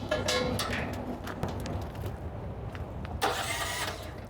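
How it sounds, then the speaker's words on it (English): A small pony motor powering the hydraulic power pack on a 2024 Fontaine Workhorse 55 LCC trailer cranks and fires up, then runs at a steady mid-pitched idle, close by and fairly loud, with a second surge of revving toward the end. "Crank up the pony motor."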